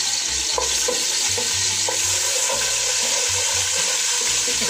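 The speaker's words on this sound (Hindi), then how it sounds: "अब एक पैन में थोड़ा सा ऑयल गरम करें, इसमें 1 चम्मच अदरक लहसुन का पेस्ट शामिल करें।" Ginger garlic paste fried in hot oil in a pan, with a loud continuous sizzle and repeated scraping stirs, up close and without any talk.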